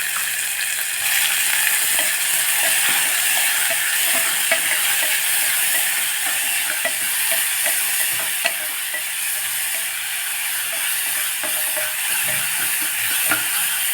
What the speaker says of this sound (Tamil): வதங்கியாச்சு எண்ணெய் கொஞ்சம் அதிகமாக இருந்தால் சீக்கிரமாக வதங்கிடும்